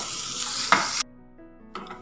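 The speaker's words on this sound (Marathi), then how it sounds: "तो भाजून झाल्यानंतर मी हे खोबरं भाजून घेणार आहे." Grated dried coconut roasting in a little oil in a pan for a Malvani clam curry gives a steady close sizzle with a brief spatula scrape, then cuts off abruptly into near silence before a faint clatter returns.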